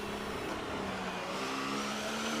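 A Ferrari Formula 1 car in an F1 video game at Bahrain, accelerating out of the last corner in fourth gear, its engine a loud steady whine climbing in pitch, with no talk.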